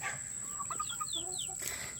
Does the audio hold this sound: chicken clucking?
yes